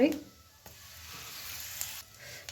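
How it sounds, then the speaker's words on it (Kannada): Cumin seeds and curry leaves sizzle in hot mustard oil in a pan, a soft, steady crackling hiss heard close and fairly quiet. "ಎಣ್ಣೆ ಕಾದದ್ರಿ ಈಗ ಸ್ವಲ್ಪ ಜೀರಿಗೆ ಹಾಕೊಳ್ಳೋಣ ಸ್ವಲ್ಪ ಕರಿಬೇವು ಹಾಕೊಳ್ಳೋಣ"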